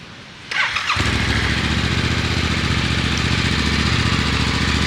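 A Yamaha R7 motorcycle fitted with a new exhaust and its catalytic converter removed fires up after a brief starter whir, then settles into a loud, close, steady idle with no one talking.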